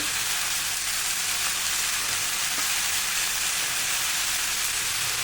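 Ginger and cashews roast together in a pan for a dhaba-style paneer masala, giving a steady, even sizzling hiss that runs unbroken for the whole stretch with no voices.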